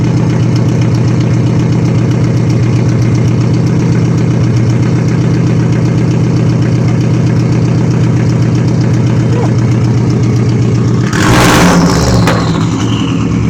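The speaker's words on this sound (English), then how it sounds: "it sounds like a muscle car" A loud 2005 Subaru Impreza WRX engine rumbles and revs continuously, close by, with a brief burst of louder noise near the end.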